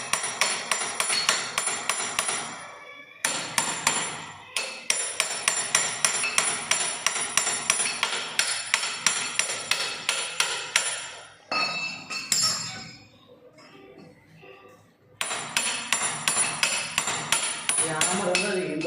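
Hammer blows knocking a loosened part down, loud sharp metallic strikes in steady rhythmic runs of many hits, with a pause partway through before the pounding resumes.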